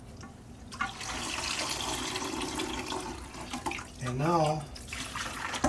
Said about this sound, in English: Then I take this conditioner and I rinse it up and down.